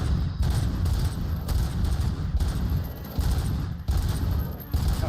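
Gunfire in the video game Robocop: Rogue City, a dense, continuous burst of loud rapid shots with brief dips, heavy and booming, with no talk over it.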